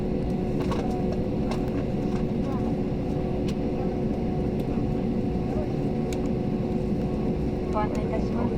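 Steady engine roar and low rumble fill an airliner cabin while it taxis at Yonago Airport, loud and constant, with a cabin announcement spoken over it.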